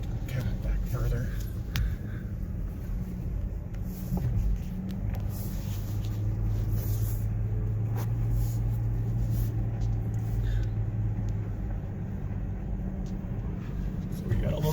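A new Land Rover Defender rolls slowly over loose rocks on an off-road trail, its engine a steady low drone with scattered knocks and bumps from the terrain, and muffled voices inside the cabin.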